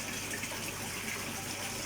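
Water pours steadily into an Easy Pod filter unit on a koi pond, a continuous close rushing wash with no break and no voices.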